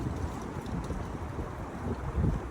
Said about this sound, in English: The wind is really starting to chill into my fingernails.